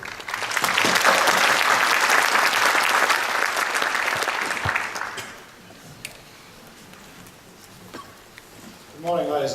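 An audience at a conference opening breaks into loud, dense applause welcoming a speaker to the podium; the clapping fades out after about five seconds, leaving quiet room noise before a voice begins.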